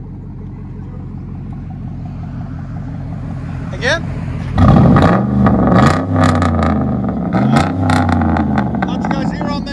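A Chevy Silverado V8 with true dual exhaust idles with a low burble, then revs hard in several loud, throaty bursts that fall back between pulls. A voice speaks briefly over it.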